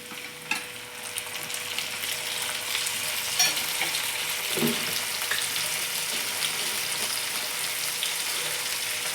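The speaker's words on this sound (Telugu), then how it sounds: "టమాటా బాగా వేయించుకోవాలి" Medium tomato frying in a pan with onions and two dried red chilies, a dense continuous sizzle like steady rain, close and even throughout, with a few faint clinks and no talk.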